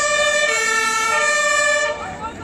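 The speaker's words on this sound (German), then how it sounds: "Hier kommt jetzt der erste Krankenwagen." A loud ambulance siren wails close by at a police eviction of a protest, its steady tone fading and dipping slightly near the end.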